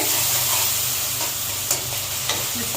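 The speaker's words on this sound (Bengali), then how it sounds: "এই যে ভালো করে মশলাটা কষানো হয়ে গেছে, আমি মাঝখানে এসে একটু নাড়াচাড়া করে দিচ্ছি" Spice paste and tomatoes fry in a pan for a small-fish curry, a steady close sizzle and hiss with occasional scraping strokes of a spoon stirring.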